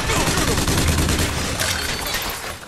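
Sustained burst of automatic gunfire from an armed automaton in Bioshock Infinite, loud and close with dense overlapping shots throughout, trailing off slightly at the end.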